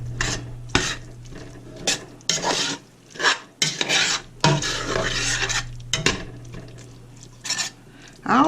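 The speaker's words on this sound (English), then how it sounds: "Now just take your spatula and kind of start moving all of that around." A spatula stirring and scraping taco soup ingredients in a pot, with repeated rasping scrapes and clanks against the metal in irregular bursts, close up, and no talking.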